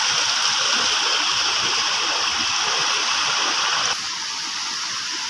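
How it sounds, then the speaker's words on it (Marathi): A small Konkan brook runs swollen after heavy rain, its water rushing and gurgling in a steady, close, even flow with no voices over it. "बघा कसा पाणी वाहत आहे पर्याचं"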